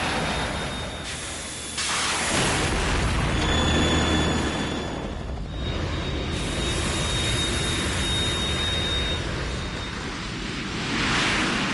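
A Harrier jet in Metal Gear Solid roars steadily, a loud, continuous engine noise with a faint high whine. It fills the game scene without any voices.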